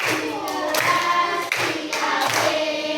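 A class of third-grade pupils claps together in rhythm, sharp bursts of hand claps repeating steadily and loudly across the whole stretch, with brief pauses between rounds.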